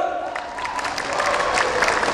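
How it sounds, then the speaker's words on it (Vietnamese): Audience applause at a Vietnamese variety gala, a steady wash of clapping mixed with some cheering from the crowd, sustained and fairly even throughout. "xin mời quý vị dành một tràng pháo tay thật lớn cho sân vận viên lam hương"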